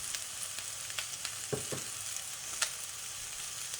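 Lo mein noodles stir-fry in a hot pan with ground black pepper, giving a steady, close sizzle and hiss with a few soft clanks of stirring and no talking.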